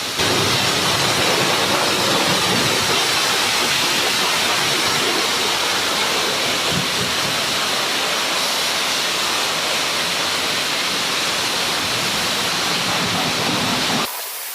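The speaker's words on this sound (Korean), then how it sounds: "물은 이제 위에서부터 아래로 이렇게 내리면" Water pours steadily from top to bottom over a car during a hand wash, a loud continuous rushing splash with no break until it cuts off at the very end.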